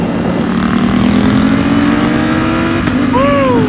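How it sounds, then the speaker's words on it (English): Ducati XDiavel motorcycle engine revving hard, a steady loud drone rising in pitch before a sharp throttle blip near the end, with a rider nearby. "Yeah, twist that throttle a little bit."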